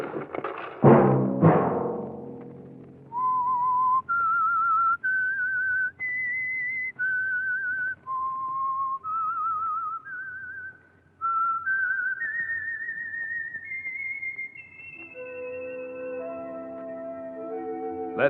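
A clear whistled melody rises step by step in sustained notes after a few opening plucked tones, ending with layered held tones.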